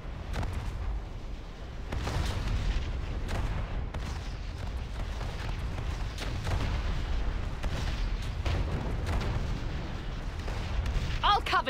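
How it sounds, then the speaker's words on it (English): Ammunition catches fire and explodes in World of Warcraft, with repeated booming blasts and crackling bursts over a rumbling roar, loud and sustained, while voices speak over the din. "The ammunition has caught fire."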